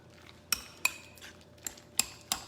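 A utensil clinks and scrapes against a bowl while crab salad is being mixed, six or so sharp taps at irregular intervals, close but fairly quiet over faint room noise.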